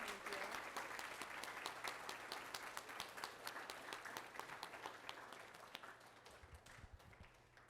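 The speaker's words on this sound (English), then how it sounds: "one more big round of applause for George" A high school audience applauds a guest speaker, and steady sustained clapping from a large crowd fills the whole stretch, fading slightly toward the end.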